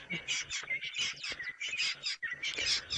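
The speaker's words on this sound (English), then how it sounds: "They boss all the other birds around." Several birds at a safari watering hole call and chirp back and forth in quick overlapping squawks and tweets, fairly close and busy throughout with no pause.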